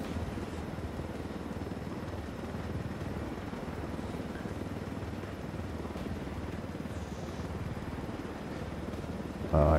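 A helicopter flies in the video game Ghost Recon Wildlands, its rotor and engine a steady, fairly quiet drone throughout that ends in a brief louder burst, with no voices.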